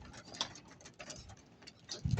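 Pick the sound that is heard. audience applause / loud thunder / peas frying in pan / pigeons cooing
pigeons cooing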